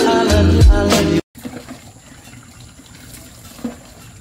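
Water poured during an outdoor bath in the Philippine countryside, a loud gush lasting about a second, then a sudden cut to quiet background with faint trickling and a small splash near the end.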